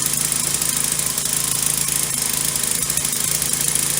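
A Troy-Bilt TB685EC small engine with no choke runs steadily as it warms up, a continuous rough, knocking idle with constant vibration, close and loud throughout with no talk.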